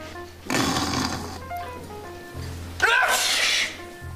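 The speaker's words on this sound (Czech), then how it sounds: "Kýchání je nejenom nespolečenské, ale také nehygienické." Two loud, close human sneezes, each a sharp breathy burst, come a couple of seconds apart against a quiet low hum.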